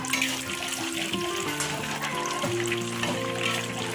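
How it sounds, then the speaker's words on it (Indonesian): Peanuts frying in hot oil in a wok, a loud continuous sizzle and bubbling crackle close up, with scraping of stirring running through it. "Ini saya goreng kacang dulu ya, kacangnya digoreng dulu."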